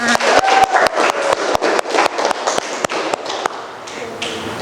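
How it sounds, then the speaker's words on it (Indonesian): Rhythmic group clapping in a school classroom during a seventh-grade maths lesson: a run of sharp, evenly spaced claps that gradually softens and fades. "Tepuk tangan dulu untuk kita semua."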